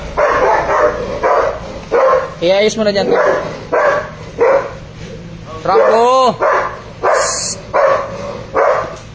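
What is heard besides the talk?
dog barking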